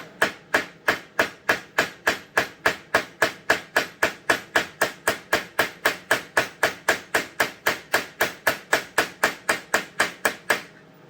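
A steady, rapid series of sharp hammer blows, about three per second, striking leather nonstop and close up, with no talking.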